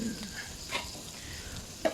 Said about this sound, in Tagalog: Prito-prito pa rin.